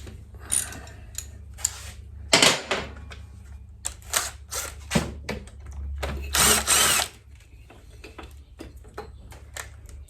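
A power tool drives a bolt back into the fork of a Yamaha XJ900 Seca motorcycle, with several short whirring bursts of varying length separated by pauses and quiet clicks, close up over a low hum.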